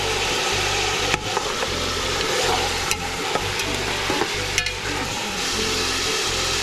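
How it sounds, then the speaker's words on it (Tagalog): A whole chicken fries and sizzles in a pot for tinola, a loud, steady crackle with occasional sharp stirring clatters and utensil knocks, no voices. "Siyempre, isusunod natin ang buong manok."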